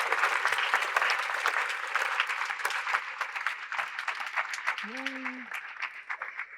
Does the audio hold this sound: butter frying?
no